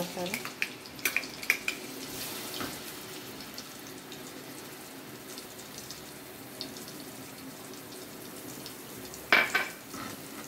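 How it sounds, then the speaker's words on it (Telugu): Masala with cumin sizzles softly in hot oil in a pan for an eggplant curry, a low steady fry broken by occasional clinks and scrapes of a utensil against the pot, with a louder clatter near the end. "ఫస్ట్ ఈ ఆయిల్లోని మసాలా వేసేసుకోవాలి"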